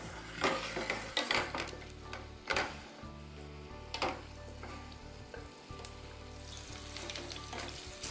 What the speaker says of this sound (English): Oh, listen to that sizzle,